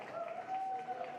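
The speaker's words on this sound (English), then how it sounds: "the cheers coming from the crowd" A crowd cheers and applauds at a para swimming finals in an indoor pool venue, a brief, steady wash of distant cheering heard under a commentator's voice.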